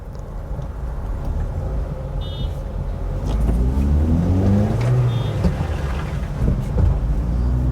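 A 2015 Honda Amaze CNG family car with a 5-speed manual gearbox drives off, its low engine drone steady and close, rising in pitch as it pulls away, with cabin rumble throughout and no talking.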